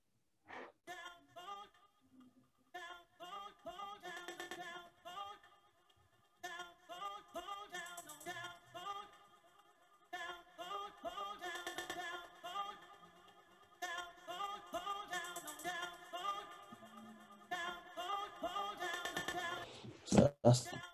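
Crunchy, heavily processed vocal sample run through a Sound Toys effect rack, chopped into short rhythmic bursts with gaps between phrases, building over about twenty seconds.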